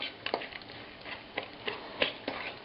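A cherry and Sichuan peppercorn mixture, with heavy cream, is stirred in a bowl: a series of light, irregular clicks and taps as the utensil knocks the bowl, close and fairly quiet, with no talking.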